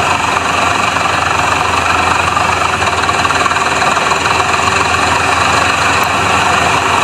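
A Massey tractor hitched to an 18-foot farm trolley runs loud and close, its engine holding a steady knocking drone without letup.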